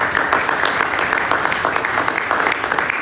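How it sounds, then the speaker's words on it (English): An audience at a legislative scorecard tour stop in Kalispell, Montana gives a short burst of loud, close applause, brisk overlapping hand claps sustained evenly for a few seconds. "Can I give a round of applause to these people?"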